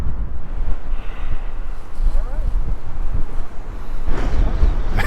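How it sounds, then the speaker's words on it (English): Strong wind buffets the microphone at a lake during a stop on an electric bike ride, a loud, rumbling, steady roar with gusty swells and no clear talking. "You don't realize how windy it is until you stop"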